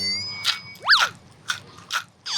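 Thai fried dough (pa thong ko), a spiral-shaped piece, gives several sharp, crisp crunches as it is bitten and chewed up close, spaced bites separated by quiet pauses with no talking.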